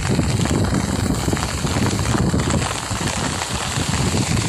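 Heavy rain pours down outdoors in the countryside, a dense, loud, unbroken hiss with no talk.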